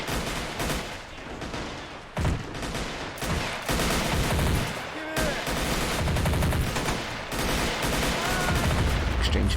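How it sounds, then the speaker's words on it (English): Rapid gunfire crackles through a large Army Men beach defence battle in a simulator game, with dense overlapping bursts and single shots rattling continuously and loudly, near and far. "Exchanging fire with the reds."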